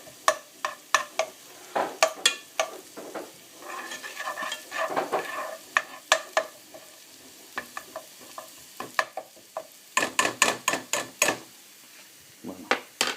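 Prosciutto fries in a pan, a steady sizzle broken by repeated sharp scraping strokes as it is stirred, loud and close, with clustered stirring near the start and end and no talking.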